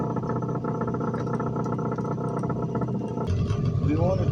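A repaired boat motor on a sailboat runs steadily with a continuous low mechanical drone and clatter, close by. The pitch shifts near the end as it picks up, and a voice talks over it.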